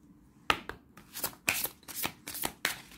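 Oracle cards being shuffled by hand, a series of about seven crisp riffling bursts in quick succession, close and fairly quiet with no talking.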